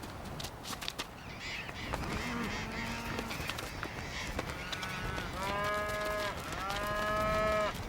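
Cattle mooing in open Patagonian country where large birds forage, with harmonic lowing calls swelling near the end over a steady outdoor background, no talking.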